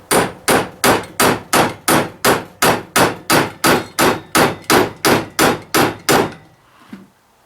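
A hammer strikes an old equipment tube in a steady run of about fifteen loud metallic clangs, evenly spaced, then stops, leaving a faint thump at the end.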